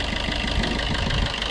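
A 2016 Maruti Baleno Alpha diesel engine idling, giving a steady, continuous low rumble with faint knocking pulses at an even rhythm and no voices.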